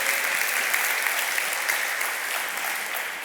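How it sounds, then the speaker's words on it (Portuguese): Church congregation applauding the Lord during a sermon, a dense, steady wash of many hands clapping at close range for about three seconds, with no voices rising above it. "dê uma salva de palmas ao Senhor."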